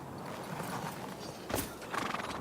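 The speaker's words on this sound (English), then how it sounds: "there's Eric's horse." Hooves clip-clop softly on the ground with a horse snorting and whinnying in the video game Kingdom Come: Deliverance II, over a low steady background hum.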